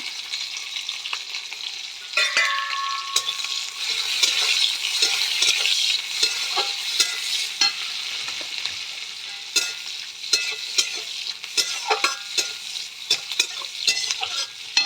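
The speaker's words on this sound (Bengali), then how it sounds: "রসুনগুলো দেব তারপরে কাঁচা লঙ্কাগুলো দেবো লাল লাল করে ভেজে নেব" Chopped onion, garlic and green chili fry in a hot pan, a steady bright sizzle broken by frequent scraping clicks of a stirring spoon, close and alone with no voices.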